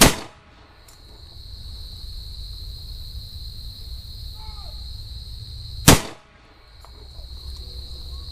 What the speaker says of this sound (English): Next up, 5 rounds, 180 grain Fenix ammunition through the Para Elite Hunter 6-inch barrel.